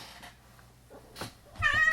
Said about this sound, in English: Ooh, I squished the cat.